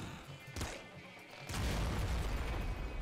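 Cars blowing up in the roguelike shooter Nuclear Throne: a sharp burst near the start, then a heavy, sustained boom with rumbling debris filling the last half, loud and close.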